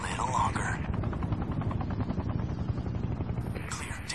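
A helicopter in the video game Sniper: Ghost Warrior 2 gives off a steady, loud rotor chop throughout, with voices talking over it.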